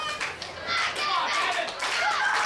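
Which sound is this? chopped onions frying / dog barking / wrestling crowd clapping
wrestling crowd clapping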